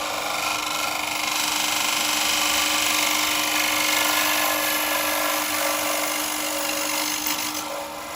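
A bowl gouge hollowing a wooden bowl spinning on a lathe, a steady whirring hiss of cutting that stays loud and even before easing off at the end, with no speech.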